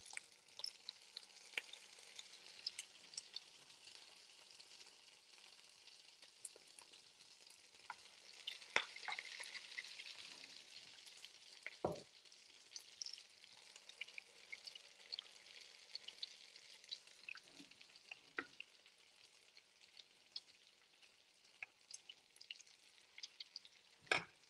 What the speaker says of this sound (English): fry lang natin siya, guys.